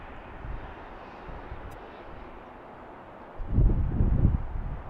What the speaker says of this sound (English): The sounds of the planes, not the sound of me.